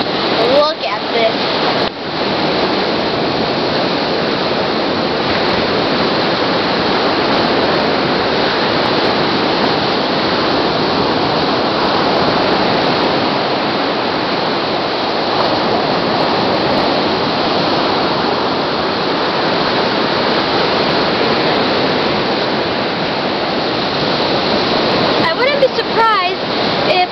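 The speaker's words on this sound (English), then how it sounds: "Today I'm at the Baltic Sea coast at the beach here" Waves break steadily on a beach along the Baltic Sea coast, a loud continuous surf roar that fills the whole stretch with little variation.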